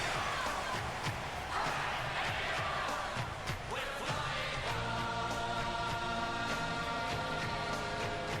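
A video game crowd roars for AFL teams running onto the field in AFL Evolution 2018, a continuous dense stadium wash with a brief swell of cheering before steady tones join in the second half.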